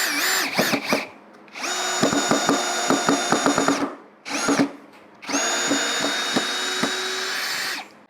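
Ryobi ONE+ 18V brushless compact drill driving screws with a Phillips head bit on a low, high-torque setting: three loud whining bursts with ratcheting clicks, separated by short pauses, up close and with no talking.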